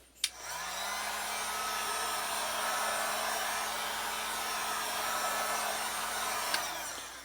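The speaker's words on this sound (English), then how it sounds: "take your heat gun and warm it up again" A heat gun warming vinyl wrap on a car hood blows with a steady, loud whooshing roar that starts with a click and runs unbroken for about six seconds before clicking off.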